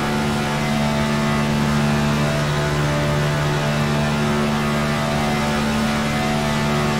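Onboard sound of race car number 99's engine at the 500, a steady, loud drone held at constant revs with strong tonal harmonics and no break for the full stretch.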